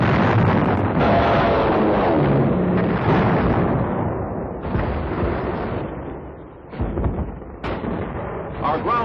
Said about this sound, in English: Navy dive bombers blasted the Jap batteries and defenses